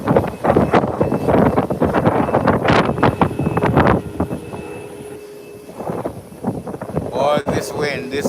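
Gusty wind buffets an outdoor microphone at an airport viewing spot, roaring in loud, uneven surges under a voice talking throughout.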